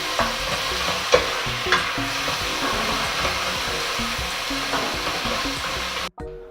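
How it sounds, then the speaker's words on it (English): Large diced tomatoes and onions sizzle steadily in a hot pan with occasional stirring scrapes, frying loud and close before cutting off abruptly at the end. "now add in 2 diced tomatoes, large diced tomatoes, and leave those to cook on the same heat for another 5 minutes"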